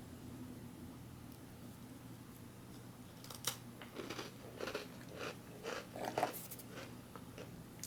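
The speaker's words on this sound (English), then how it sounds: "It's got some nice crunch to it." Someone bites into and chews a crunchy oatmeal cookie from a ration pack, with a quiet run of crisp crunches in the second half that follow a near-silent start.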